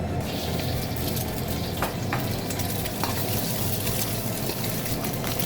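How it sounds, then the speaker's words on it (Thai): Shrimp stir-fries in a pan with red curry paste for Thai fried rice. A dense, loud, continuous sizzle fills the whole stretch, with a few spatula scrapes cutting through. "ผัดกุ้งให้สุกนะครับผม"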